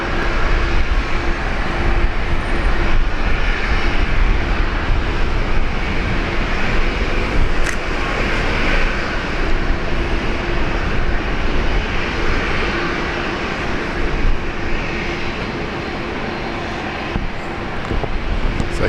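A passenger aircraft landing on runway 19 left at Brisbane Airport, a loud, sustained broadband engine roar with rumble that holds steady for the whole stretch and fades slightly near the end.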